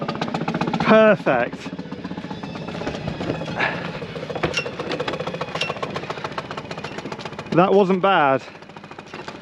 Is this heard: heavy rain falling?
no